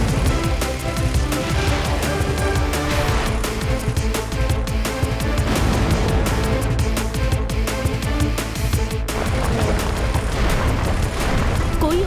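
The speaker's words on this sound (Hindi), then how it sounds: "इन दो छोटे लट्टुओं को मिसाइल से उड़ाता हूँ।" Cartoon missiles blast two small spinning tops, making a dense, continuous barrage of booming explosions and crackling bursts that stays loud throughout.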